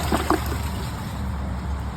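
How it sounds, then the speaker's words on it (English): An American Standard Studio toilet flushing up close, a steady rushing wash of water that holds evenly for a couple of seconds after a brief knock at the start. "I might as well just give them a flush like this."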